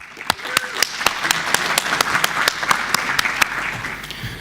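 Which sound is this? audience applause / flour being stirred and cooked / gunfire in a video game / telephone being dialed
audience applause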